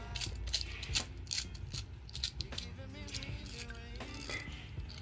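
Clicking ratchet-like turns from tightening the clamp of a DIN rail terminal block, close small mechanical clicks and scrapes in an irregular rhythm with no speech.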